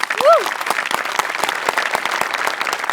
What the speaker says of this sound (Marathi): हेअर मेकअप आणि कॉस्ट्युम डिपार्टमेंटसाठी पण एकदा टाळ्या